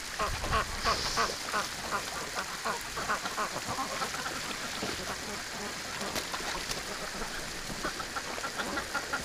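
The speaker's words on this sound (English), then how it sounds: "now we got a goose on top of a goose that's on top of a duck" Wintering ducks and geese, including a Muscovy, quack and honk repeatedly outdoors in snow near a garden hose, a busy overlapping chatter of calls close by with some talk mixed in.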